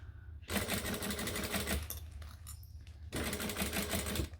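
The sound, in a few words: sewing machine sewing both fabric layers together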